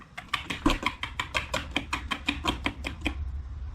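A spoon stirs thick homemade apple butter by a wood cook stove, producing quick, regular knocking and scraping strokes against the container, close and fairly loud in a brisk steady rhythm.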